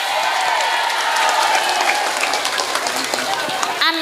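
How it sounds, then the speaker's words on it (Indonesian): Audience at a religious talk applauds in a steady, continuous wash of clapping hands, fairly close and even throughout, with scattered voices mixed in. "Tepuk tangan."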